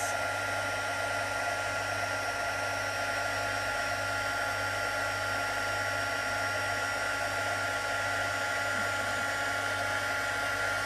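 Heat gun blowing hot air to set embossing powder on a card sentiment, a steady, even fan-like whoosh with a low hum underneath, continuous and close, with no talk.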